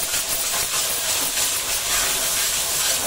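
Prawn rice with egg sizzling in a little hot oil in a pan, a bright, steady hiss that stays loud and even from start to finish with no voices.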